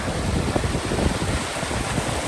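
A mountain river in Utah's High Uintas near Red Castle rushes and joins another stream, a broad continuous wash of flowing water with some wind buffeting, and no one speaking.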